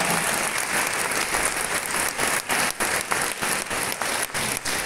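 Sustained applause from a concert audience at a Christmas and New Year concert in Rumia, honouring a choir, with dense steady clapping filling the hall and no voices above it.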